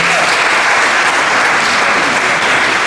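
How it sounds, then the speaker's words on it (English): Loud, dense applause from a large audience at a software talk, a steady wash of many hands clapping that fills the whole moment with no pauses. "Let's give a big hand of applause."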